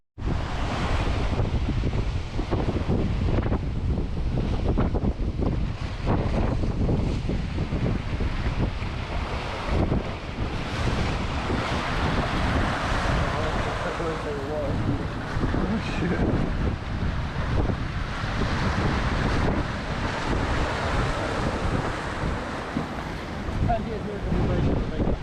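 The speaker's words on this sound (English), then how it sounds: "Look at the waves just right around this side." Rough North Sea waves crash against the Scottish coast in stormy conditions, a loud continuous surge of surf and spray heavily buffeted by wind noise on the microphone, with a voice occasionally speaking over it.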